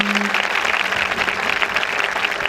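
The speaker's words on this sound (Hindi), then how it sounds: "खुदा के आपकी शुक्रगुजारी के लिए हम तालियां बजाएं।" A church congregation claps during a Pentecost sermon. The applause is dense and steady, close and fairly loud, with a brief low hum at the very start.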